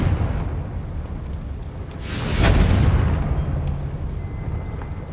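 An explosive Confringo spell blast in Hogwarts Legacy, a loud booming burst that swells and rumbles for a couple of seconds over a steady background, fading out slowly.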